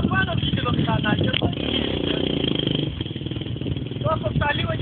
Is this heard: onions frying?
no